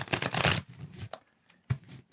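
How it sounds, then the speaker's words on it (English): A deck of playing cards being shuffled by hand close by, with a quick riffling burst followed by softer taps and a final snap, no talk. "I'm going to shuffle 3 times and take the first 3 cards off the top."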